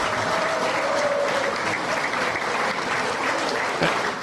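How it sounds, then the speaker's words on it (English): Continuous applause sound effect played during a podcast, a steady wash of many hands clapping at even loudness throughout, with no distinct individual slow claps standing out. "I thought I had a slow clap, like applause here somewhere."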